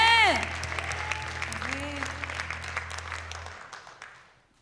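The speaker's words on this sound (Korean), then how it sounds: "주님 앞에 우리를 부르시는 주님 앞에 감사의 박수 올려드립니다" A church congregation claps in a dense, steady burst of applause that gradually thins and fades out, with a voice speaking over the start of it.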